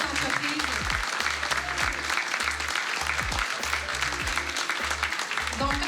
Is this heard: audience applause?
yes